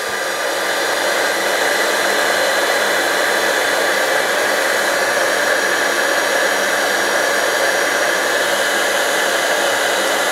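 A handheld heat tool blows hot air over embossing powder to melt it, giving a loud, steady whooshing hiss that runs unbroken and close up for the whole stretch, with no talking.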